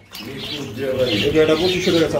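Male pigeon cooing inside a clay nesting pot, a close, steady low rolling coo that runs continuously under light background noise.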